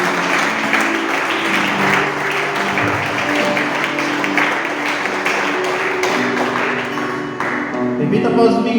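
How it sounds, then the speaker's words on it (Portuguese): Steady applause from a church congregation fills the space, dense clapping with tapping accents carrying on for several seconds while a low hum of music or voices sits beneath. "Uma salva de palmas a Jesus"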